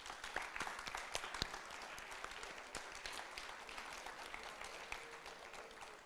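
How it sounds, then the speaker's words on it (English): An audience at a junior class poetry coffee house applauds the students, a fairly quiet, distant patter of many hands with a few sharper individual claps standing out. "Can we just give them one more big round of applause?"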